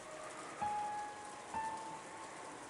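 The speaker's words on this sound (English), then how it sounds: "you couldn't ignore the sound of the rain sneaking into the dining hall" Rain falls outside a dining hall in the visual novel Umineko, a faint, soft steady patter heard alone with a couple of quiet thin tones over it.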